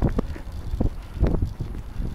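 Cold winter wind on an outdoor walk near -40 windchill, gusting and buffeting against the microphone in low rumbling bursts with no speech.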